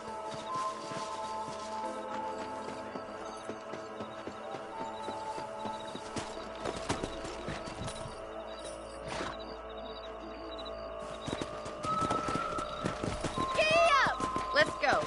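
Horses gallop with steady clip-clop hoofbeats in the video game Red Dead Redemption, accompanied by game music and sound effects, with voices speaking over them.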